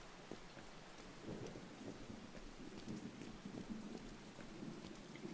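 Steady rain pours throughout a scene in the video game Beyond: Two Souls, a dense wash of drops with a low rumble of thunder underneath, fairly loud and continuous with no talking.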